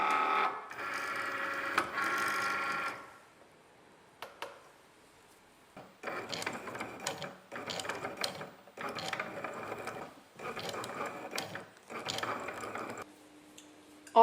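A Cricut cutting machine draws with a pen and cuts on its mat, giving bursts of whirring, clicking carriage movement separated by short quiet pauses, close and fairly soft.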